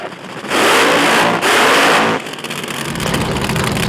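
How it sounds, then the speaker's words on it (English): A drag racing car's engine revs hard during a burnout at a night event, with two loud, sustained blasts split by a brief dip, then dropping to a lower rumble that builds again. "Hilton flips the throttle on the burnout as Generalo gets the car fired"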